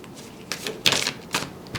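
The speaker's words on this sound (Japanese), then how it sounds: "ちょっともう一枚最後にオラクルカードを引いてみましょ" An oracle card drawn from a deck during a tarot and astrology reading, a few soft, close papery slides and taps spread across under two seconds with no talking.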